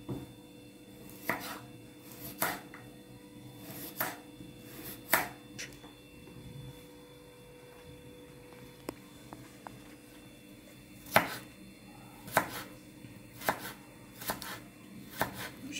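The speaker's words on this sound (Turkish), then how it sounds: "çok kısa da değil ama mümkün olduğu kadar ince doğrayalım" A chef's knife chops vegetables finely on a cutting board for a chicken and vegetable rice pilaf, in sharp, irregular bursts of quick close taps separated by quiet pauses, with no talking.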